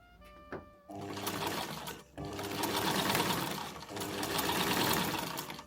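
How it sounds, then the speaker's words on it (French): A sewing machine stitches in long, steady runs, loud and close, with a brief pause between bursts and no talking. "il faut que je couds"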